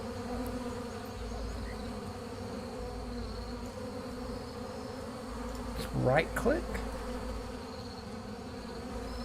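Bees buzzing in the online fantasy game Adrullan Online Adventures, a constant droning hum under a steady background bed, with a brief louder swooping buzz as one passes close; a voice speaks briefly.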